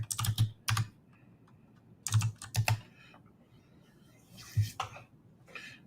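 Fingers type on a computer keyboard in quick, close bursts of clicks with short pauses between them, clear against a quiet room and with no talking.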